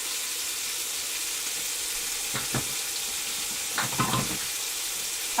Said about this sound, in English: Now we're going to let these sear